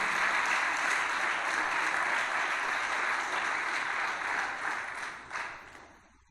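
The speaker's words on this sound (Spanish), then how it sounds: "Vamos, dale palmas de alabanza a Dios." A church congregation claps in praise during a sermon, a dense, loud, continuous wall of applause that fades out toward the end, with no speech over it.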